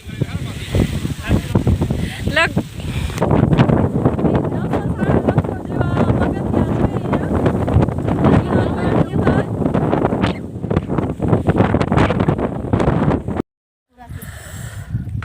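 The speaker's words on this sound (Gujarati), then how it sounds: "પાછળ ખેંચી જાય એટલો બધો પવન છે" Strong wind on a hillside buffets the microphone in a loud, continuous roar with gusty surges, while people talk over it; the sound briefly cuts out near the end.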